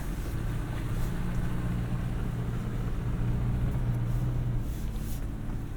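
Toyota 4Runner Trailhunter idling slowly over off-road terrain: a steady low engine rumble with a constant drone and faint cabin noise, continuous and even throughout, with no talking.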